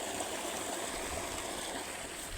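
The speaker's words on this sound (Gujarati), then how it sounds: "આ જો કેટલો આવે પાણી." Rainwater rushes strongly along a village channel after heavy rain, a continuous, even gushing flow heard at close range.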